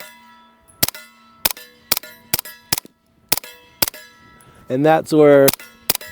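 Grand Power Stribog SP9A3S pistol firing at a steel plate: about ten sharp, loud shots at a steady, unhurried pace, each followed by a ringing metallic clang. Someone speaks briefly between shots.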